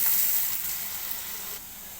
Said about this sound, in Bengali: এখন এর মধ্যে আমি দিয়ে দিলাম পেঁয়াজ কুচি। পেঁয়াজ কুচিটাকে আমি একটু নেড়ে চেড়ে হালকা ভেজে নেব।